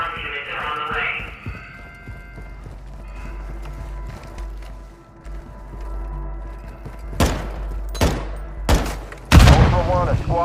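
Gunfire from the Modern Warfare 3 Building 21 mission: several loud, sharp shot bursts near the end, preceded by a low game ambience with faint effects and voice-like radio chatter.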